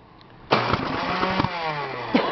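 A small engine in freezing cold, fitted with a new lead cord, cranks with a sharp pull and then sputters roughly, its uneven firing and puffs carrying on loudly for about two seconds with no voices.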